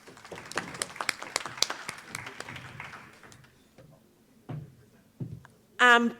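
A conference audience claps through a round of applause that starts dense and fades into a few scattered claps, followed by a short voice near the end.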